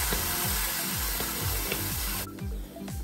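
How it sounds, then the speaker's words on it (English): Shiitake mushrooms sizzle steadily in a hot pan with oil and soy sauce, with scraping stirring strokes in the foreground before the frying quiets toward the end. "when shiitake mushrooms touching the hot pan with some oil and soy sauce in it"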